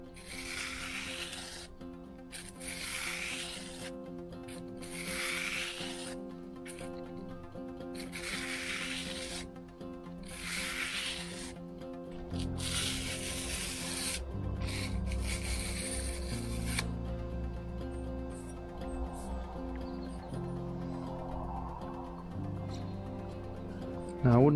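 A knife blade is rubbed in rhythmic back-and-forth strokes across 240 grit abrasive, a raspy scraping repeated in regular bursts before a quieter, humming stretch with faint scratching.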